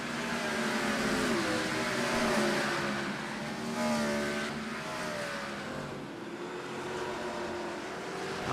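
Race cars in a stock car racing video game at Martinsville roar steadily throughout, engine tones rising and falling as they pass and rev, fairly loud and continuous with no talking over them.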